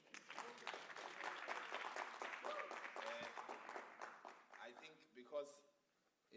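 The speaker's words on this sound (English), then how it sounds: "Let's clap, you know." An audience at a youth entrepreneurship tour event claps together in a steady, dense burst for about five seconds, then the applause thins out and fades, with a voice briefly heard near the end.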